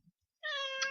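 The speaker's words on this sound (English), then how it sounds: "There's my cat." A house cat gives one clear, fairly close meow lasting about half a second, preceded by a faint soft noise in otherwise quiet surroundings.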